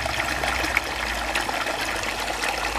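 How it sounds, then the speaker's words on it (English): Water is poured into a tall plant pot holding a crassula, a close, steady trickling and splashing stream that runs on without a break, with no talking over it. "my pot is quite high, so I'm putting a lot more water here"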